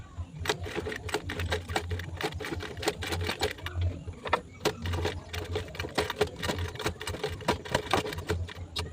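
A sewing machine runs in quick bursts of rapid, clattering needle strikes while stitching a fabric bag panel, with short pauses between runs and soft handling noises close by.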